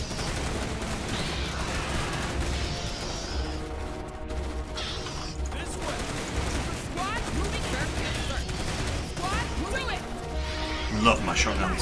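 Shotgun blasts and constant battle fire in the video game Starship Troopers: Terran Command, a dense, loud barrage with crashes and rattling volleys. Voices shout over it throughout.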